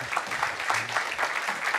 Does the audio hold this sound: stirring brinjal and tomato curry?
no